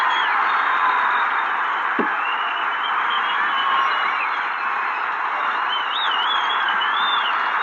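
A large crowd at a tennis match at Memorial Drive cheers and applauds steadily after Peter Carter's upset win, with faint whistles rising over the broad roar.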